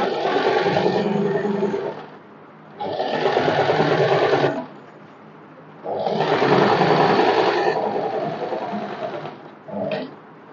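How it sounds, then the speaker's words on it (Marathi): A sewing machine stitches the neckline and a straight seam of a co-ord set, running in three long, steady whirring bursts with short pauses between them, then a brief final burst. "तर आता मी स्टिच करून घेते."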